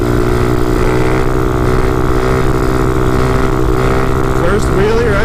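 A motorcycle engine revs hard and steadily during a first wheelie attempt, loud and close throughout with a droning harmonic whine that bends upward near the end as the throttle changes; wind rushes under it.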